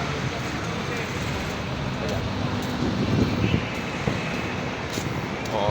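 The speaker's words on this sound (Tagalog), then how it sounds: "Mahangin dito, mga pilingero." Wind blows steadily across an open city street, a broad continuous rush with faint traffic in the background.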